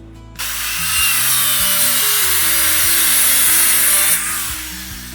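A power saw runs through wood for a straight 0-degree cut, with the board clamped and locked in a cutting jig. Loud, steady whine rises at the start, holds for about four seconds, then winds down, with no talk.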